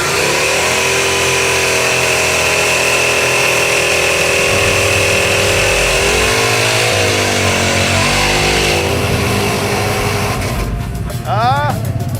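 A Jaguar drag racing car at an NHRA event runs rough, its loud uneven engine drone wavering and surging under continuous commentary, with crowd and track noise around it.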